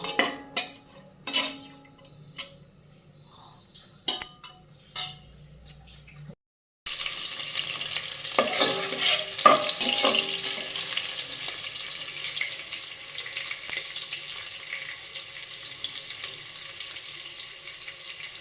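Beef frying in a pan with onion, garam masala and bay leaves, with clattering utensil scrapes and stirring over a steady sizzle, brief knocks at first, then continuous frying noise.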